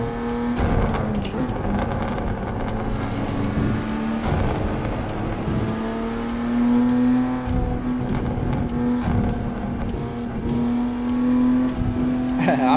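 A car is driven in a racing video game played from a real car interior, its engine droning and revving steadily with shifting pitch throughout, while a person talks over it now and then.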